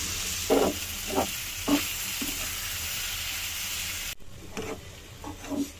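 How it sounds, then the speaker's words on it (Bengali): Vegetables and noodles frying together in a pan, a steady sizzle and hiss broken by several short bursts of stirring and scraping, close and alone. "একসাথে সব ভেজে নিয়েছি, আর এবার নুডলসটা দিয়ে দিলাম"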